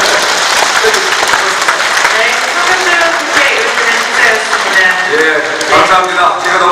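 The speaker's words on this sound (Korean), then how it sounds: "박수 한번 크게!" A large crowd applauds loudly at a city citizens' day ceremony in Icheon, sustained dense clapping throughout with cheering voices and calls rising over it.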